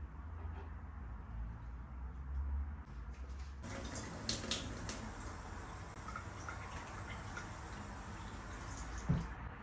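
Water pours steadily while indoor plants are watered, a continuous trickling splash that thickens after a few seconds, close and moderately loud with no talking.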